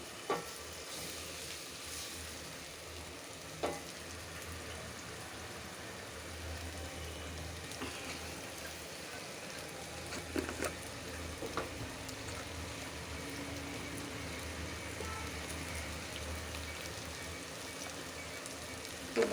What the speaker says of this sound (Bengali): বেগুন ভাজা করতেছি